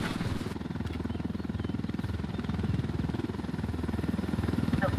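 Steady rhythmic chopping of helicopter rotor blades with a constant engine drone, loud and continuous across the clip, with no voices; a helicopter in a video game.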